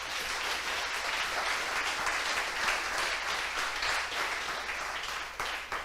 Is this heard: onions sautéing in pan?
no